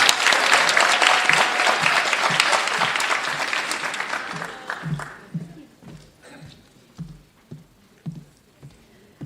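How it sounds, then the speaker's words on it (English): Audience applause at a university nursing pinning ceremony, a dense roomful of clapping for about five seconds that thins into scattered, isolated claps and fades out. "One more round of applause."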